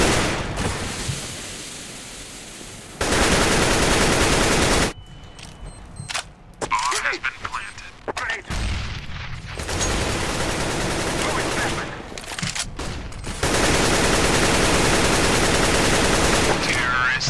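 Bursts of automatic gunfire in CS GO, loud dense volleys of several seconds each with quieter gaps between, with a player talking over parts of the fight.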